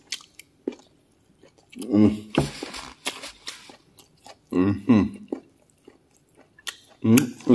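Nigerian fried rice with chicken and salad is chewed close to the mic in wet, squishy bursts that come in several clusters with quiet gaps between them. No one speaks.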